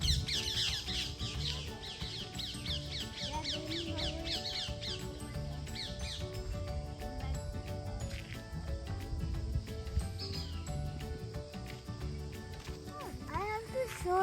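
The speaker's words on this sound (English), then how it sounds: "Now you can hear how voices of birds," Birds call in a forest, with repeated squawking, caw-like calls and chirps at moderate distance, some in quick series and some single, over low background rumble. A person speaks now and then.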